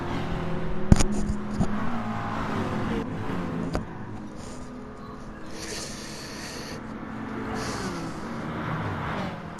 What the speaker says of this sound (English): We've got 4 cars pretty close together as we go 3 abreast into this tight hairpin.